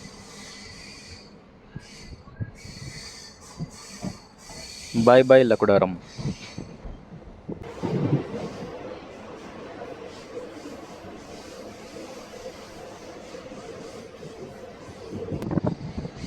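A Secunderabad–Siddipet DEMU train runs along its route with a steady rumble and hiss, broken by a loud, brief horn blast and later a rising roar, as someone talks over it.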